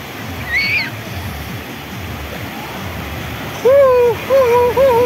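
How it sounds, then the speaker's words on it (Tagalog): Strong sea waves wash and surge steadily around a small boat during an island-hopping ride, a continuous broad rush of water with splashing, while voices call out loudly near the end. "lakas ng alon, no?"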